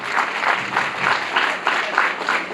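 Audience applause at a Tamil gathering, steady clapping from a crowd that swells and eases in soft waves for a few seconds with no talk over it.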